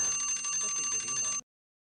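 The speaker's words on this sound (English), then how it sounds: "You set an alarm and forgot about it?" Alarm clock ringing with a rapid, bright, trilling metallic ring, steady and loud for over a second before cutting off abruptly into silence.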